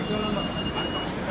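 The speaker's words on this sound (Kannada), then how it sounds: "ಇವಾಗ ಟ್ರೈನ್ ಬಂದದ" A train arriving at a station rumbles in a steady, loud broadband roar with a faint high whine, continuous for the whole stretch, with voices talking over it.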